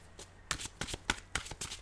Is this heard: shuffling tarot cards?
yes